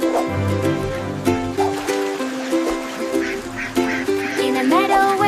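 Cartoon ducks quack in a bouncy animated children's rhyme about five little ducks in the rain. Repeated nasal quacks sound over a bright musical backing, loud and close.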